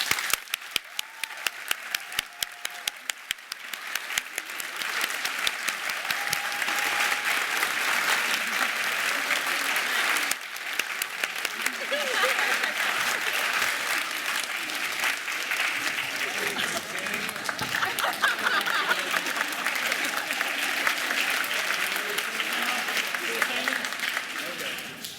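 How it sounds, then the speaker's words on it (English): Sustained applause from the audience at a community college nursing pinning ceremony, broad and steady clapping from many people lasting a long stretch, with a few louder individual claps standing out near the start. "if you all would please join me in a round of applause"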